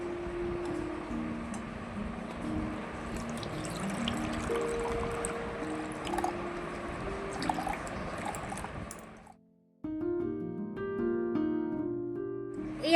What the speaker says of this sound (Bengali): আমের রসটা আমি এবারে ছাঁকনি দিয়ে একটু ছেঁকে নেব